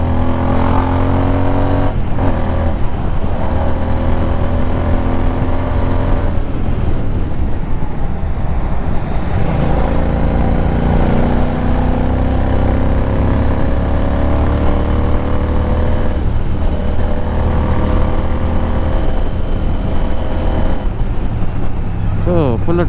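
A GT motorcycle engine pulls hard as the rider throttles through heavy traffic after its third service. The loud, close drone rises and falls in pitch with each twist of the throttle, over constant wind rush.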